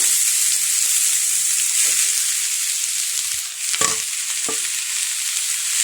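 Grated cabbage frying in a pan sizzles with a steady, loud hiss, broken by a few scraping stirs of the spatula near the middle.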